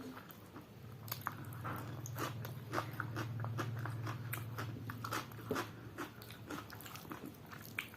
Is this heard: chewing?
yes